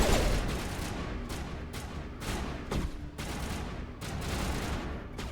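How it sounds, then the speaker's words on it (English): Rapid gunfire bursts in the video game Mass Effect, a dense stream of loud shots broken by short pauses, close and without talk. "What are you two shooting at?"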